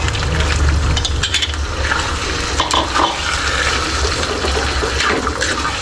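Water pours into a pot of cooking rice with tomatoes, a close, steady splashing and gurgling fill lasting several seconds with light stirring clinks.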